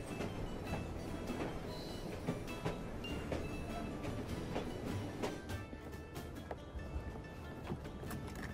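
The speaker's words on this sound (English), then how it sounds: "This train belongs to me now." A train rolls along in the Assassin's Creed Syndicate video game, a continuous rumbling clatter with scattered metallic clicks and knocks, moderately loud and without talk.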